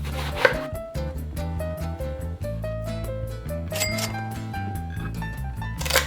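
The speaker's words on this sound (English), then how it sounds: "Use half an eggplant, cut it in half lengthwise, then into slices." A knife chops half an eggplant into slices on a cutting board, a steady run of sharp, evenly spaced taps over about six seconds, close and clear, with no talking.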